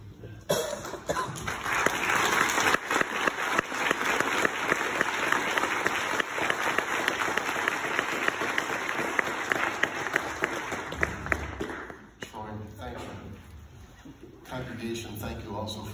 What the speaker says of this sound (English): Thank you also for supporting him with that applause.